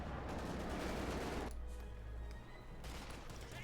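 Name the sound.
gunfire in video game Company of Heroes 2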